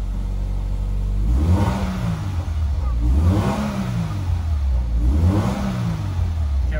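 Subaru BRZ 2.0 S with an HKS aftermarket muffler revs up from idle and drops back down three times in a row, each blip rising and falling smoothly, close and loud with no talk.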